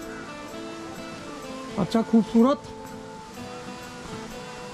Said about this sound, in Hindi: जीवी वाटरफॉल, ये पानी नालियाँ नाली दिख रही है मुझे